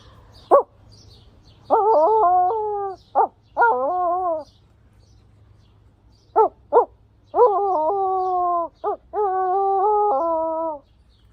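A person imitates a coyote howl through cupped hands, a voice mimicking the animal in a series of short yips followed by several sustained, wavering howls with gaps between them, loud and close with no other talk.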